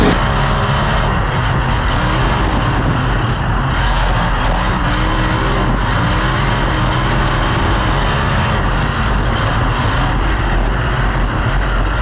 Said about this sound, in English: Dylan Menz is the first car upstairs in heat race number 3 for Menz Trading and Hire.